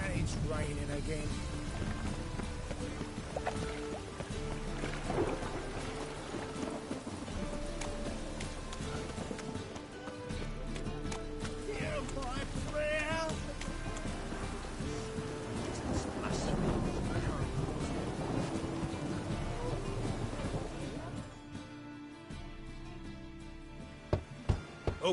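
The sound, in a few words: rain and thunder in The Witcher 3 video game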